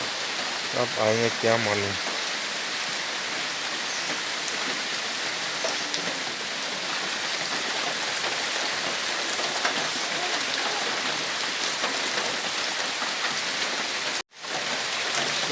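Heavy rain falls in a steady, dense hiss that fills the whole stretch, with a voice speaking briefly at the start and a sudden momentary cut near the end.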